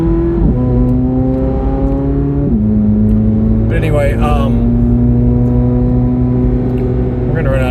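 A road vehicle engine hums and shifts pitch while driving on rural roads, revving up and easing off through several steps, loud and close, with someone talking briefly over it.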